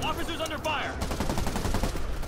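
Rapid gunfire in a Spider-Man video game, a dense fast burst of shots close and loud under a brief radio-style voice at the start.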